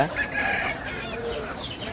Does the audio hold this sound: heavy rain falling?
no